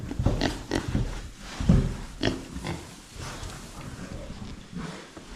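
Pigs in a barn pen grunt and snort in quick, irregular bursts, loud and close, with some short squeals and rough rumbling breaths running throughout.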